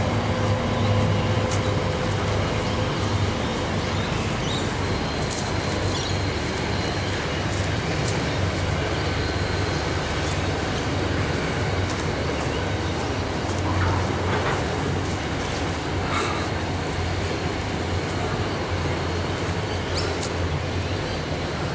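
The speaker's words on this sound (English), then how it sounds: "And the locomotives are just about to cross over. The flying junction." Locomotives cross the Torrens flying rail junction in Adelaide, giving a loud, steady rumble of rolling rail traffic with a low engine drone that lasts throughout, without any talk.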